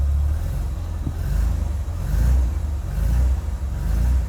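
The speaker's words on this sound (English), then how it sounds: "That is the sound of a CVH" A Ford CVH engine revs just after starting, a close, continuous low rumble that swells and eases in several broad surges with no talking.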